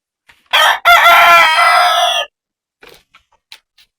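A single close, loud rooster crow, a long call after a short opening note, followed by quiet with a few faint clucks.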